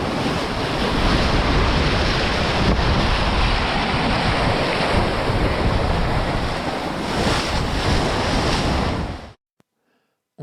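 Loud, steady rush of 18-20 knot wind and breaking waves on the open sea aboard a Mini-Transat sailboat racing at 9-10 knots, buffeting the microphone, cutting off abruptly near the end.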